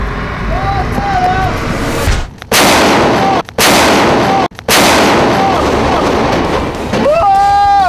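Main gun of an army armored vehicle firing in the rain, two huge booming blasts a second apart with long rumbling decay, close and very loud, with voices calling out around them.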